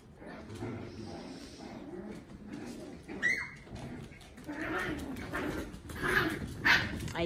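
Puppies play in an upstairs room, letting out yips, whimpers and short barks in scattered bursts over muffled thumps, fairly faint and heard from a distance with some talk mixed in.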